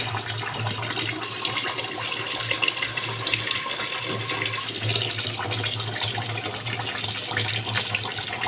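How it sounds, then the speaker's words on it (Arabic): Rice being washed under running water from a kitchen tap, a steady, loud gush and splash with faint stirring and sloshing throughout. "بغسل بقى شويه رز"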